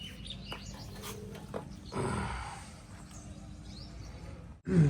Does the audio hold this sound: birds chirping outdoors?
yes